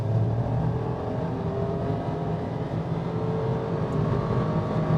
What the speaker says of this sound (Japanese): さあ料金所からのフル加速です。